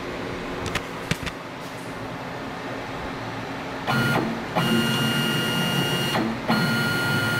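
A CNC x-axis motor under Mach 3 control whines steadily as it jogs, a sustained tonal drone that starts partway through, breaks briefly and returns, over a constant room hum.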